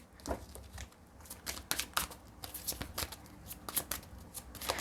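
Tarot cards are shuffled and drawn close by. Quick, quiet riffles and crisp flicks come in irregular bursts.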